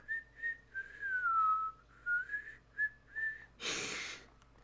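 A person whistles a wavering tune in short phrases with pauses, thin and close, ending with a breathy burst of air; no talking.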